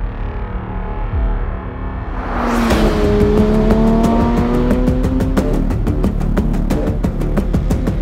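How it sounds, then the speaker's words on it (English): A Porsche 911 GT3 Touring sports car driving, its engine note rising from a low rumble into a loud, sustained high-revving roar with clear climbing tones, heard close and alone. "So this is the GT3, but it's a GT3 Touring."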